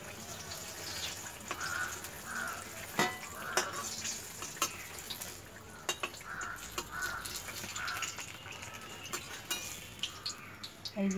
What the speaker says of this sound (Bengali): এই যে বেগুন ভাজা।